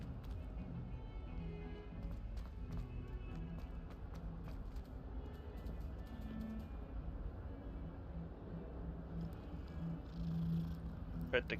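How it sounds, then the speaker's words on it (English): A cat purring while being petted in a video game, a low steady purr that runs continuously under faint game ambience, with a short voice near the end. "Pet the kitty, pet the kitty."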